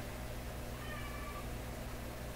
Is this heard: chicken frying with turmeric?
no